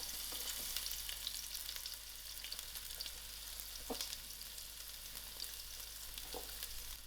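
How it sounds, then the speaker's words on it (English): Onions frying in hot oil in a pot, giving a steady close hiss and crackle with occasional louder pops and faint stirring, and no voices. "I'm going to allow these onions to fry till it's soft and turn color"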